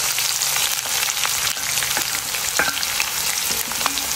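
Onions fry in hot oil alongside cashews, making a loud, continuous close-up sizzle with crackling pops and scraping stirs throughout.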